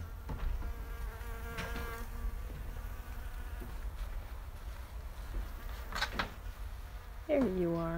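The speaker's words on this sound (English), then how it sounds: "There's a bee." A bee hovers around a blooming plant outdoors, its buzz rising and fading as it moves near and away, with soft background noise throughout.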